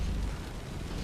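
A video game explosion in Solasta II plays as a deep, sustained rumbling roar that fills the whole moment at an even loudness with no distinct start or end.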